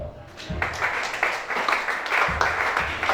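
Church congregation applauding during a prayer and deliverance service, dense clapping that holds steady throughout with a slight swell near the end.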